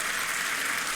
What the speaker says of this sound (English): A round of applause for a Fritzl joke.